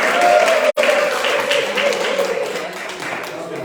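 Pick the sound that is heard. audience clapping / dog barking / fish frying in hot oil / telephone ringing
audience clapping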